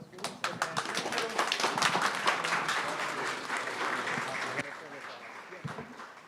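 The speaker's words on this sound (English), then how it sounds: "Everyone give a round of applause to Alex, please." A round of applause for Alex at a talk on self-directed learning, from a modest crowd, starting sharply and thinning into scattered claps with a voice or two mixed in.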